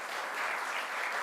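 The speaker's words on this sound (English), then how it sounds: "So let's give another round of applause to our superintendent" A brief burst of dense, even applause comes from an audience honouring a police superintendent at a state announcement on gun violence. It is continuous and moderately distant.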